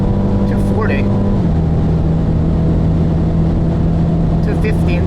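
BMW X2 M35i engine pulling hard at very high speed, a steady loud drone with a gear change early on, then a constant high-speed roar mixed with wind and road noise.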